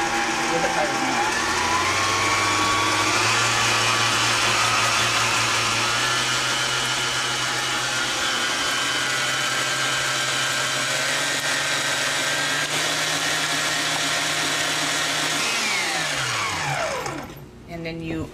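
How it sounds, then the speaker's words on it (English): An electric stand mixer with its beater lowered whips egg whites toward foam, a loud steady motor whine running evenly before winding down near the end. "lower the beater and start it the same way we did before. Go slow till it gets kind of foamy"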